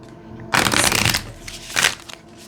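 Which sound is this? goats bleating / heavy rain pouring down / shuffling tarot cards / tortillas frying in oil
shuffling tarot cards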